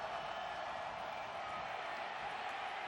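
A college football stadium crowd at North Dakota State versus South Dakota State roars in a steady, dense wash of cheering that holds without a break.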